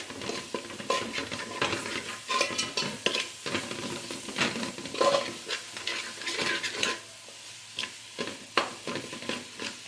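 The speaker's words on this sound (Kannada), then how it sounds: "ನೋಡಿ ಚೆನ್ನಾಗಿ ಇದು ಪಾತ್ರೆಯಿಂದ ಎದ್ದೊಡುತ್ತೆ ಮಸಾಲ ಅಲ್ಲಿ ತನಕ ಫ್ರೈ ಮಾಡಿ" Masala frying in a pot for goat head curry, sizzling steadily while a spoon stirs and scrapes against the metal in repeated close strokes, no voices.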